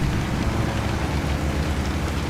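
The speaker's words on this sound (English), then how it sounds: "A lot of rains." Heavy rain falling outdoors in Alaska, a dense, steady hiss of drops pattering close and loud without a break.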